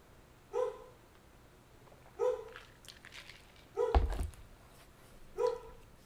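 Four short, sharp dog barks ring out at a steady, spaced rhythm, close and fairly loud over a quiet background, with a brief clatter or thump between the third and fourth barks.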